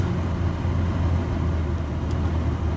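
A car heater blower motor fan on a vehicle with 151,000 miles runs with a steady, even whooshing hum and low rumble, unchanging throughout.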